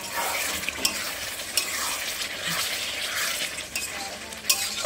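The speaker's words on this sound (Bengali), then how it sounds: "আলু টালু দিয়ে মশলা টশলা দিয়ে ভালো করে কষিয়ে নিলাম।" Potatoes and spices are stir-fried in a pan, giving a dense, continuous sizzle close up, with occasional clinks and scrapes of a spoon and no speech.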